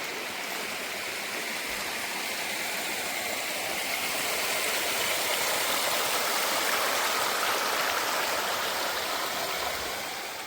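A stream near Harihar Fort rushes in a steady, dense flow, loud and close, with no voices over it.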